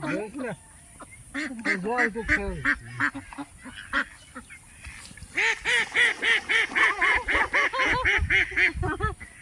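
A flock of village ducks quacks loudly and repeatedly as they head into the water, rapid nasal calls coming in quick rhythmic runs close by, with occasional voices underneath.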